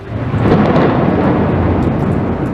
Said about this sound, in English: Violent thunderstorms last night following a month's rainfall in just a few hours.